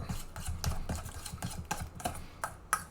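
Something being stirred in a bowl while preparing a bread and roast chicken salad, a quiet run of close, rhythmic scraping and clinking strokes.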